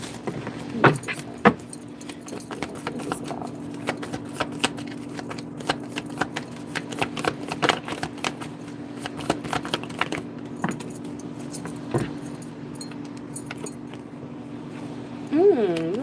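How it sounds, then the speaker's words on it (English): Tarot cards are handled and shuffled with soft repeated clicks and rustles over a steady low hum, while a voice talks quietly. "Let's put some tarot cards."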